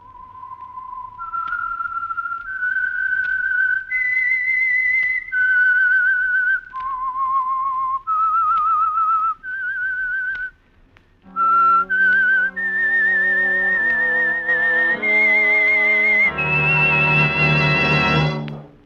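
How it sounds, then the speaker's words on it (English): A person whistles a clear melodic tune, sustained notes stepping up and down, joined later by a rich instrumental chord swelling loudly toward the end. "That whistle is your signal for the Signal Oil Program"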